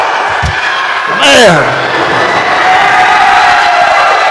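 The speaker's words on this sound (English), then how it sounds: "Listen to this crowd come alive." Wrestling crowd at an AMW Showdown event roars steadily throughout, a loud continuous wash of cheering with a brief surge of whoops, while someone shouts over it.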